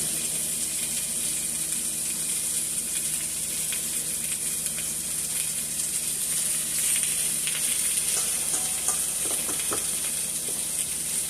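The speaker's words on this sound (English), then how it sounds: "Let that season up my meatballs while they're cooking." Ground turkey meatballs with green onions fry in a pan, a continuous close sizzle and crackle with scattered pops that grow busier toward the end.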